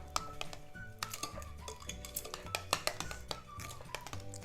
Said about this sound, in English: Just stir it.